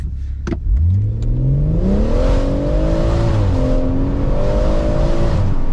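A BMW M140i with an open differential accelerates hard in first gear, manual mode and Sport Plus with traction partly off, its engine rising from low rumble to a loud, steady high-revving drone close by.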